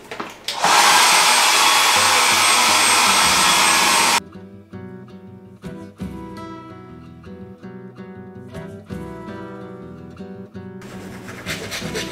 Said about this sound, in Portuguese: Será que tem secador?